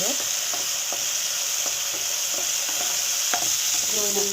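Eggplant pieces fry in a pan for vangi bath with a steady, loud sizzle. A spoon scrapes and stirs through them in repeated close strokes, and no one speaks.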